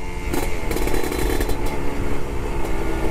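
A Kawasaki Ninja motorcycle engine runs close by on a busy night street, a loud buzzing drone with small rev fluctuations and a few sharp crackling bursts over steady traffic noise.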